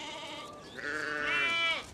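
Sheep on the Kazakh steppe bleat in a wavering, harmonic-rich call that swells near the end, close and fairly clear over a quiet open-air background.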